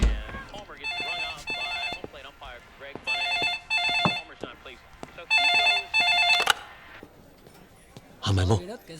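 A telephone rings in repeated bursts, each a bright electronic trill, with people talking in between and a sharp clatter near the end.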